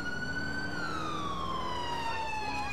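A wailing ambulance siren in the video game GTA IV with the LCPDFR mod, loud and continuous, its pitch sliding slowly downward as it passes close by.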